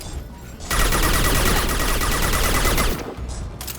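Locust gun firing in Mass Effect 2, a dense continuous burst of rapid automatic shots lasting a few seconds, loud and close, ending abruptly with a brief tail.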